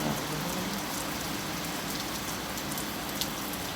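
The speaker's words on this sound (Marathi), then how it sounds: "खूप पाऊस येतो आहे" Heavy rain falls outside at night, a steady broadband hiss of drops on surfaces that stays even and fairly faint throughout, with no talk.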